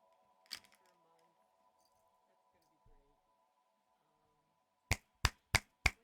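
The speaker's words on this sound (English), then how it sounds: "I'm snapping my fingers in case it's not being picked up by the mic" Four crisp finger snaps land in quick, even succession near the end, loud and close against near silence, after a faint isolated click and some soft background noise earlier.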